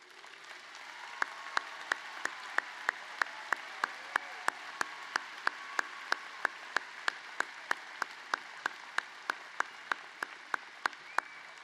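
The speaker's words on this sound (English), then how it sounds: "applause." Steady applause from a graduation ceremony audience, with dense clapping and sharp individual claps standing out at a regular pace, continuing at an even level for the whole stretch.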